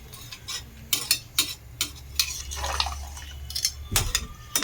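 Rice and water being stirred together in a pot for veg pulao, a spoon scraping and clinking against the metal sides in irregular strokes with soft sloshing between, close and moderately loud, no talk.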